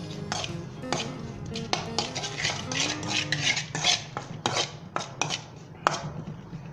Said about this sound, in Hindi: इसके बाद सब्ज़ मिर्चें शामिल कर दें, अच्छे तरीके से इसे मिक्स कर लें